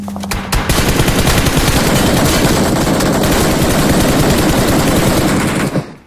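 Loud, sustained automatic gunfire in a shooting video game, a rapid dense burst of shots running for several seconds after a brief pause at the start.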